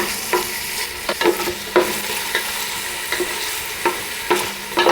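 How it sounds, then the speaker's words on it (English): Garlic and onions brown in a pan for a Mexican tortilla soup, a soft, steady sizzle punctuated by regular scrapes and knocks of a utensil stirring, with no talking. "let the garlic get cooking, let the onions brown just a little bit"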